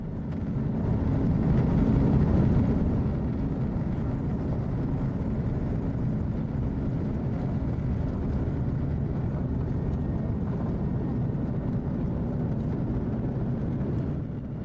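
Steady low engine roar inside an airliner cabin during takeoff and climb from Charles de Gaulle airport, a loud continuous rumble that swells slightly early on and then holds even.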